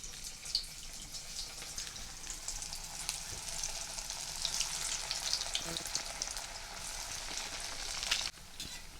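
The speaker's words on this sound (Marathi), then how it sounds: "ह्यातल्या मी वड्या एक एक उचलून तेलामध्ये तळून घेणार आहे" Pieces of methi vadi, a fenugreek-leaf snack, frying in hot oil, giving a steady close sizzle and crackle of bubbling oil throughout, with no talk over it.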